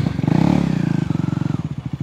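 A new KTM motorcycle engine runs close by, with a loud, throbbing, pulsing idle that rises briefly and then settles into a steady chugging beat.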